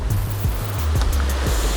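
Strong sea swell surging and crashing during a rough-water sea fishing session for opaleye, a loud continuous wash of surf with deep rumbling pulses rolling in about every half second.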